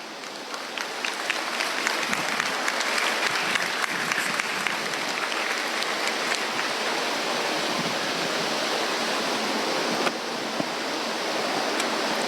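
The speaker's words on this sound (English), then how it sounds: "Another round of applause for our guest speaker." Graduation audience applauds a guest speaker at a senior high school ceremony, a dense sustained wash of clapping from a large crowd that holds steady throughout and swells slightly near the end.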